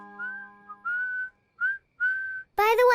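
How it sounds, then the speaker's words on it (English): A cartoon character whistles a short tune, clear pure notes in brief phrases with small gaps, ending in a brighter, richer burst of sound. "whistling is an excellent way to play music without using electricity"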